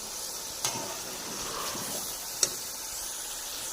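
Potatoes and peas sizzle steadily in a pan while being fried for pulao, with a couple of sharp stirring clicks against the pot.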